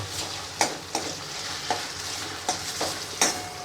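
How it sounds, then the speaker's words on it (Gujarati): Raw potato frying in oil for sabudana khichdi gives a steady close sizzle, broken by about seven sharp scrapes of stirring at irregular intervals, with no voices. "મેં તો આ બટેટું તો કાચું લીધું છે એને આમાં ફ્રાય કરવાનું છે તેલમાં"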